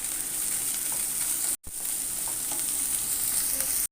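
Ginger garlic paste fries in hot oil with a bright, steady sizzle and occasional stirring scrapes, cut briefly by a short gap partway through and at the end; no speech.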